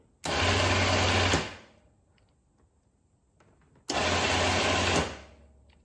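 A Warn electric winch motor on an Arctic Cat 400 ATV whirs loudly in two separate bursts, each about a second long, with a quiet pause between them.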